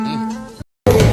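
A mosquito's steady high-pitched whine buzzes close and loud for just over half a second, then cuts to a brief silence before a burst of broadband noise.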